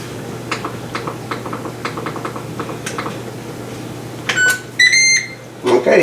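A Ninja Combi slow cooker is started with a run of light button clicks, followed by several clear electronic beeps close by, over a steady low hum.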